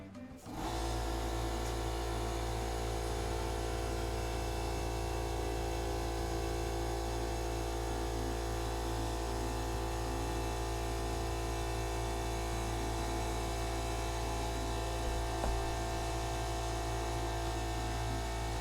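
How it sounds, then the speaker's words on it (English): Air compressor motor starting up and running, a loud steady hum with a constant low drone that holds unchanged for well over fifteen seconds. "I gotta plug in the air compressor."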